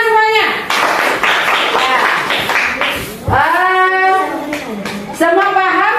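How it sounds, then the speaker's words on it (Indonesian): An elementary school class claps hands together in a classroom. Brief bursts of clapping are heard between a teacher's spoken words. "Tepuk tangan semuanya."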